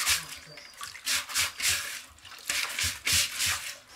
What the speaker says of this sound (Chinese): 拿回来叶子，把上面这个绒毛把它刷掉